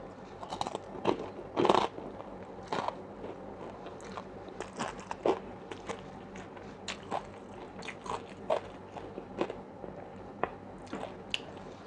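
Someone eats spicy Korean instant noodles with boiled pork belly, fried egg and sausage, making close, wet chewing, biting and crunching sounds in an uneven, repeated rhythm, with no talking.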